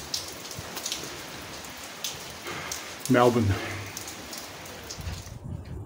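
A sudden rain shower patters steadily on the roof of a van under construction, a continuous hiss of drops, with a voice speaking briefly partway through.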